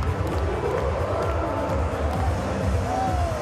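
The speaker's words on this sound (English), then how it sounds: "Lovely to see such a great crowd in here." A full arena crowd at a women's gymnastics all-around final at the World University Games makes a steady, dense roar of cheering and babble, with scattered whoops rising over the din.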